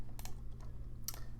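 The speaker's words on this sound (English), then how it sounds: "I'm gonna hit 6 on my keyboard so that the image appears." Computer keyboard keys tapped while working in 3D modeling software: a few light, crisp clicks spaced irregularly over a steady low hum, close by and quiet.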